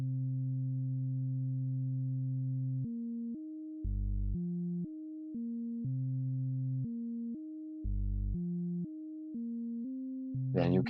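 Sequencer tune in VCV Rack run through a quantizer at 120 BPM: clean sine-like synth notes stepping between pitches in a steady pattern, a long opening note then short even steps, alone with a brief chirp at the very end.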